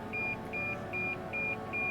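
A steady series of short electronic beeps, five evenly spaced tones, from the newly replaced rear parking sensors of a 2016 Toyota Tacoma over low engine hum.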